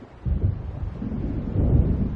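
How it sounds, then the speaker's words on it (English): Low rumbling thunder from an approaching storm in the video game Alan Wake swells after a quiet start and builds into a steady, heavy roll that grows louder toward the end. "It seems there's a storm coming."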